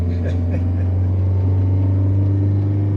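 An Abarth small hatchback driving on the road after a DIY wheel alignment, its engine giving a steady low drone and rumble throughout, with faint background talk over the cabin noise.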